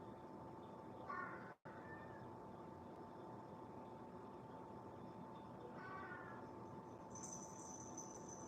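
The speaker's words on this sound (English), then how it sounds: "And you will hear my cats till I can move outside." Domestic cats meowing indoors, two short faint meows about five seconds apart against a steady background hum, with no talk.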